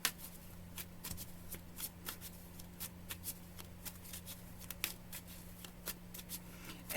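A deck of cards is shuffled and handled nearby, a rapid series of soft riffling flutters and snaps repeating steadily over a faint low hum, with no one talking.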